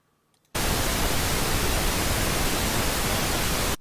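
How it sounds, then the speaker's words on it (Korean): Pink noise test signal used for sound system measurement and room tuning, a steady broadband hiss that starts abruptly after a brief near-silence and holds loud and constant until the end. "핑크 노이스를 보겠습니다"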